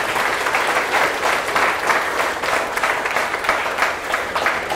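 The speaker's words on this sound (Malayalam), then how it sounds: "ബഹുമാനപ്പെട്ട തോമസ് പോൾ ബ്രദറിനും നല്ലൊരു ആത്മാർത്ഥമായ ഒരു നല്ല കയ്യടി വെക്കണം." Sustained audience applause at a charismatic prayer gathering in Fujairah, honoring Brother Thomas Paul; dense, steady clapping from a crowd continues evenly throughout without pauses.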